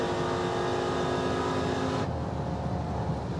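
A Chevrolet Impala drag race car roars at high revs under hard acceleration, then its engine note drops abruptly as it shifts gears midway, continuing loud and close.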